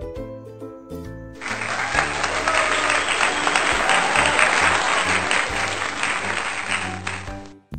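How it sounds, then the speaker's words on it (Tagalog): Sustained applause from kindergarten children and their teacher, many hands clapping together loudly for several seconds, with no speech over it. "Pumalakpak lahat sila. Pati si teacher pumalakpak din."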